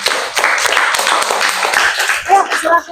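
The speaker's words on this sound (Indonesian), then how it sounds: "tepuk tangan dulu dong" Clapping from a group at a school library book-review event, dense and steady for a few seconds, mixed with voices talking over it.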